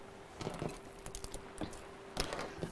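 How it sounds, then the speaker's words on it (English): A sewing machine stitches a furry bag, its needle mechanism ticking and clicking in quick, irregular bursts over a faint steady motor hum, close and fairly quiet. "Right, let's sew this together then."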